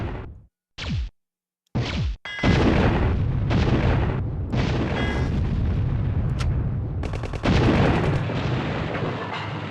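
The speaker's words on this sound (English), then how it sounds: "Press the triangle button to fire the super bomb" Super bomb blasts in the Contra video game: a few short booming hits with swooshes at the start, then a sustained roaring barrage of loud explosions with no voices.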